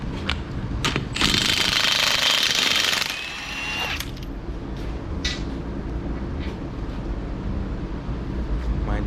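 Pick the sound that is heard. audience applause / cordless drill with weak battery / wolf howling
cordless drill with weak battery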